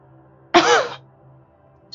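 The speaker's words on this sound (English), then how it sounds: "Sorry for the coughing." A single sharp cough bursts out close and loud for about half a second, then fades into a quiet room with a low steady hum.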